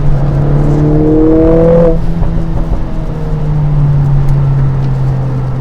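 A 2021 Mercedes-AMG GLA 45 S 4MATIC+ engine rises under acceleration, then its note drops back on a downshift and settles into a steady, loud drone.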